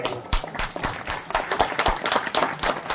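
A village audience at an outdoor religious programme claps together, a dense, lively burst of applause with sharp individual claps close by and the crowd clapping all around.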